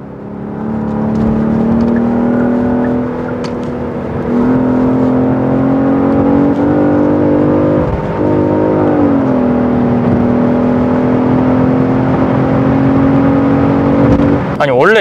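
Genesis G80 Sport engine in sport mode with active sound, a loud steady droning growl that rises and holds across several revving passes, with a voice talking over it.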